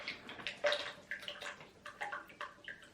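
Water splashes and gurgles in short, uneven bursts as it is poured from one plastic bottle into another, close by and fairly quiet.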